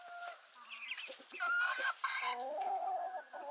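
Several chickens cluck and chirp close by in a short, busy stretch, with overlapping calls and a few higher squawks.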